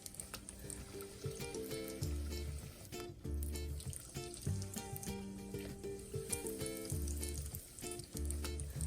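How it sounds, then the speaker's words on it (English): Crawfish boulettes, battered crawfish balls, frying in hot oil, a steady close sizzle with bubbling and crackling that holds throughout over faint background music. "I'm going to fry about a dozen of these"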